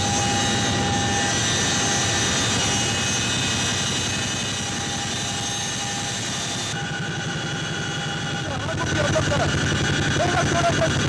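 A rescue helicopter flies toward a crash site off the coast, its steady rotor and engine drone running throughout, close and fairly loud, with faint voices underneath.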